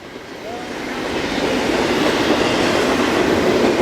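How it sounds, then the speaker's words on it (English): A long, heavy freight train rolls past on the rails with a steady, building roar and wheel rumble that holds loud throughout, with a faint squeal near the start. "This is a monster train."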